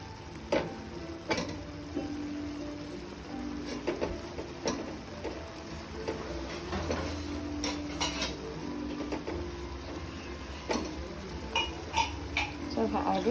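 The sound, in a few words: stirring chicken lung fry in a pan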